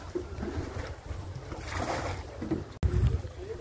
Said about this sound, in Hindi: चलें जी कश्ती की राइड शुरू करते हैं